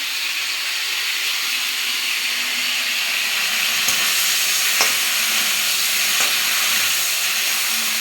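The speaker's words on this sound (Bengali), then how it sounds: "ফুলকপি পুরো ভেজে ফেলেছি" Cauliflower fries in a pan with a steady, even sizzling hiss that holds throughout, broken by a few faint clicks of a utensil.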